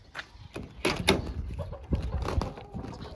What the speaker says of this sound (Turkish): Kapıyı kapatalım da